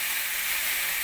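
Chopped tomatoes hitting hot oil for an onion tomato curry, giving a steady, close, bright sizzle that holds without a break.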